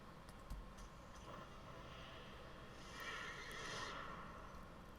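A video game horse neighs in a drawn-out, fairly faint whinny that rises and fades, with a few soft hoof clops and game noises around it and no talking.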